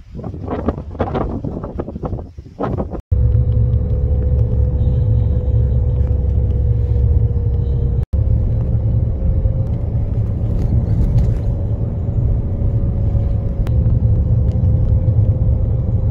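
Steady low vehicle rumble with wind buffeting on a road near Hamaren in Fyresdal, Norway, a constant engine drone from a car interior rather than distinct pass-bys, loud and continuous throughout with a brief dropout.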